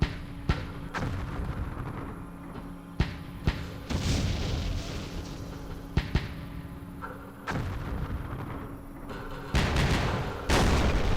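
Artillery fire in the Vietnam wargame Campaign Series Vietnam, set at Dien Bien Phu: repeated sharp booms and blasts at irregular intervals over a rumbling battlefield background.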